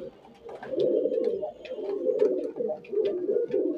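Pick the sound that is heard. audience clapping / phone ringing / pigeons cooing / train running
pigeons cooing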